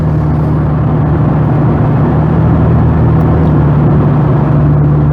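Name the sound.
car driving in night traffic onto Galveston Island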